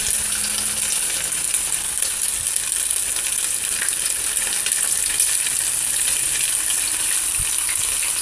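Chicken strips sizzle steadily in hot oil, added one at a time so they stay separate for a gochujang stir fry, with a dense, even crackle throughout and no talking.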